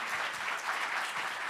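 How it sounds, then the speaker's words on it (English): An audience at a speaker-series talk applauds steadily, a dense wash of clapping that holds even and unbroken throughout. "let's give a big round of applause to Dr."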